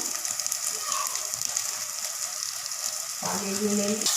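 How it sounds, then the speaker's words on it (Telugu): Masala paste sizzles steadily in a pan for an egg masala dish, a broad hissing fry that runs unbroken near the microphone, joined near the end by a brief low voice. "మసాలా చక్కగా వేగుతుందండి"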